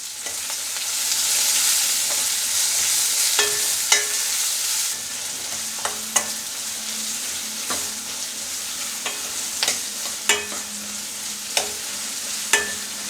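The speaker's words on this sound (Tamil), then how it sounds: "சீக்கிரம் வதங்கும் வெங்காயம்" Onions sauté in a hot pan with a little salt, a steady close sizzle broken by repeated sharp clacks of a spoon stirring and tapping the pan, with no voices.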